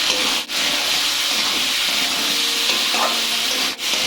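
Khichuri spices sizzle in hot oil in a pan, with salt, dried chili paste and turmeric added, making a loud, continuous close frying hiss with faint stirring scrapes and no talk.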